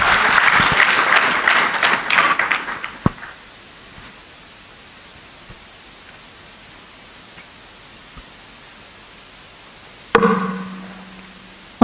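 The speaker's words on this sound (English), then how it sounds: "A round of applause." Conference audience applause swells loudly at first, then fades out after about three seconds into near silence, with a brief burst of sound returning near the end.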